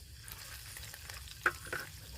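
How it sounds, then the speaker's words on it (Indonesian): Stink beans (petai) and chilies fry in a pan with a steady soft sizzle and occasional stirring scrapes and clinks, heard fairly close and quiet, without any talking. "Kita goreng dengan cabai-cabainya, kemudian kita masukkan telur ya."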